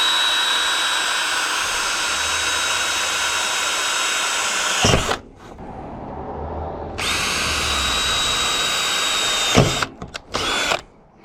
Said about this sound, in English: I'll use a hole saw to make a bigger hole here so that my socket wrench can fit through.